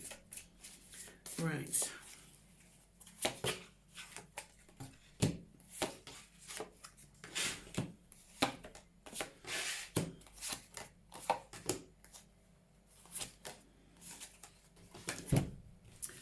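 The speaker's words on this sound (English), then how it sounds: "let's throw a few cards out for you and see what else is coming in this month for you" Tarot cards shuffled and laid out during a reading, giving soft repeated riffling, slapping and rubbing sounds in uneven bursts close by, with a voice talking intermittently over them.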